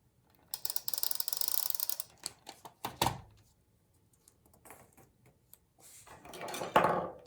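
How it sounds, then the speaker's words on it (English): Tape runner laying adhesive on paper while a junk journal is assembled, giving bursts of fine ratcheting clicks and rolling scrapes separated by quiet gaps, close and faint. "Now I'm using a tape runner, but you could use regular glue for this if you wanted."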